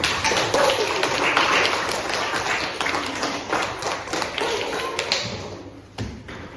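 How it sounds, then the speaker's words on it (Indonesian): A classroom of students claps together in a dense, fairly loud burst of applause that thins out toward the end, with a few scattered final claps. "Tepuk tangan untuk semua."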